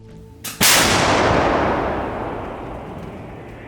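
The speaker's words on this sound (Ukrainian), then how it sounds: "Гармата. Постріл." A single M777 155 mm howitzer blast booms out loud and sharp, followed by a long rumbling echo that slowly dies away over several seconds.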